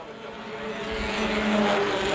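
Compact touring race cars circling Winchester Speedway, a steady engine drone that builds slightly in loudness, several cars blending into one continuous roar from mid-distance, with no talk.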